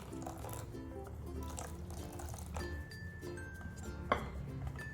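Boondi batter stirred with water in a bowl, a continuous wet swishing and dripping with light clinks of utensil on the bowl, close and soft, no talk.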